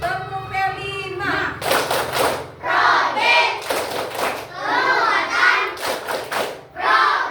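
Children clap in a quick, rhythmic chant for Indonesia's Pancasila student profile, sharp claps landing in bursts between loud, close group chanting voices.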